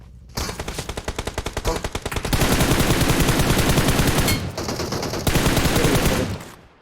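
Automatic gunfire in the PUBG Mobile battle royale game: a rapid burst of close, loud shots, then a denser sustained stretch of continuous fire, a brief lull, and another heavy burst before it cuts off.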